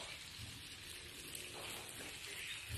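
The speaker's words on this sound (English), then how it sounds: "It's sizzling away." Steady, dense crackling sizzle of chicken frying in a hot pan for a chicken, lemon and olive tagine, continuous and close throughout with no talking.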